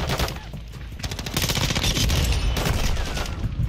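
A rocket launcher firing in a video game, a dense rumbling barrage of blasts and crackling explosions that stays loud and continuous throughout.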